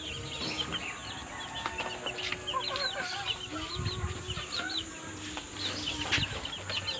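Young chickens and hens in a Quezon Province flock of Kelso and Black Pumpkin breeds cluck and chirp continuously, with layered close and distant calls, occasional wing flaps and steady background hum.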